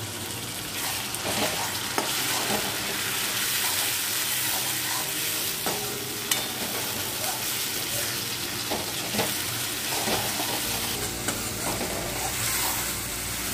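A jackfruit seed and prawn curry masala sautés in a pan with a loud, continuous sizzle, broken up by repeated scraping and stirring clicks from a spoon throughout.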